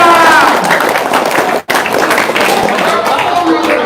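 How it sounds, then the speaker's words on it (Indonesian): An audience claps at a live talk, a dense burst of applause mixed with crowd murmur and voices, loud and close, with a momentary cut in the middle before the clapping resumes. "Tepuk tangan dong."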